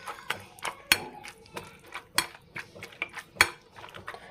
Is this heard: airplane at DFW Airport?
no